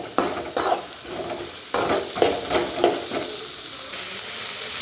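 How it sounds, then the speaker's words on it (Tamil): Ingredients for a chickpea kurma sautéing in a hot pan, with loud close sizzling and repeated scraping stir strokes in an uneven rhythm, no voices. "நல்லா போட்டுட்டு நல்லா வதக்கி விட்டுக்கலாம்"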